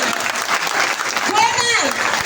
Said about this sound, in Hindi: एक बार दिनेश सर के लिए जोरदार तालियां हो जाए